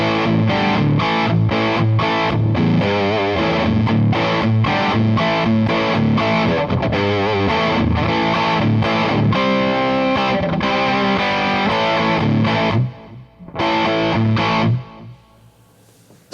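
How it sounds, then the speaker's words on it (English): An electric guitar plays through a Mojo Mojo old-school distortion pedal, a loud, thick and fat rhythm tone with steady chords, a faint echo and open reverb, cutting briefly near the end before fading out. "So the Mojo Mojo is kind of more of an old school distortion"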